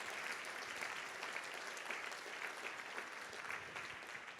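Sustained applause from a luncheon audience at a philanthropy day event, a dense steady patter of many hands clapping with no voices on top.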